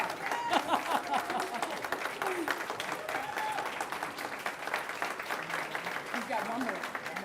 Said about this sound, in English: Yes, please stand and applaud.